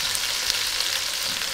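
Beef short ribs searing in a pan for stew, giving off a dense, close crackling sizzle that holds steady throughout the short stretch, with no voices over it.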